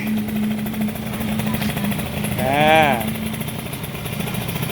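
ZX motorcycle with a 44 mm bore and a Yasuni exhaust pipe, a steady engine tone that swells in a short, clear rev near the middle and then falls back to idle.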